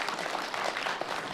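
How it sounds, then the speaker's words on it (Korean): Brief audience applause at a talk concert, a short burst of dense clapping from a crowd, moderately loud and continuous with no speech on top. "박수 한번 보내주시면 고맙겠습니다."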